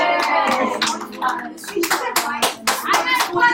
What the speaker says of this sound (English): And the funny thing was everybody clapped.